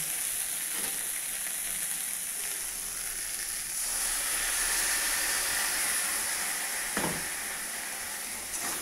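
Mustard paste goes into dhenki greens frying in a pan, raising a bright, hissing sizzle that swells midway, with an occasional utensil knock and no voices.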